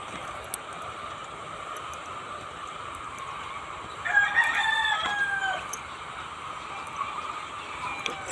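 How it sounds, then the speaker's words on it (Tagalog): A rooster crows among a flock of egg-laying hens, a loud drawn-out call rising midway over steady background hum and chatter of the coop, with no talking. "Yan po, ang daming manok ko."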